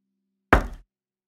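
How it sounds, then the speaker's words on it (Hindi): A single sharp knock on a door, one short close thud that decays quickly out of silence. "कोई दरवाजा खटखटा रहा था।"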